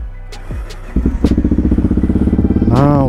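A Honda XR650L carbureted motorcycle engine cold-starts: it cranks, catches and starts, settling into a rapid, loud putter, then revs up briefly at the end.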